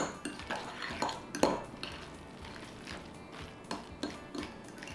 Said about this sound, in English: We'll do a couple spoonfuls to start, and we'll mix it together.